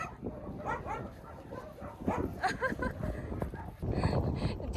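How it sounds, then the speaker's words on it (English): Several dogs at a shelter in the UAE are out on a walk, giving short yips and barks with whimpers and pattering steps amid outdoor bustle and people talking nearby. "We got to walk several dogs, and here's some footage from the day."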